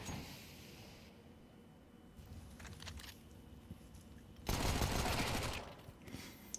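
Gunfire in a competitive Counter-Strike match on the city side, with pistols including USPs, crackling in distant scattered bursts, then a louder dense burst of shots, all under a low background.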